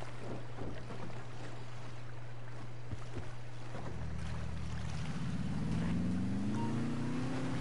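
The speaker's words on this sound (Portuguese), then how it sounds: "É rápida essa lancha, né?" Speedboat engine in Grand Theft Auto V Online, a low steady motor drone that swells into a rising, revving roar with splashing water as the boat accelerates, loud and alone.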